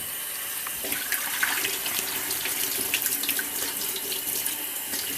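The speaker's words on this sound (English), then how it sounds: "Just going to rinse the rest of them." Running tap water pours steadily into a sink while beans are rinsed under it, a constant close gush with faint rattles, no voices.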